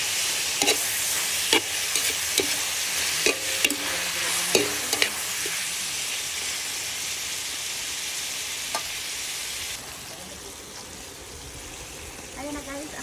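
Tomatoes hit a hot frying pan with a steady loud sizzle, broken by scattered scraping and clacking stirring strokes close by, the hiss easing a little toward the end.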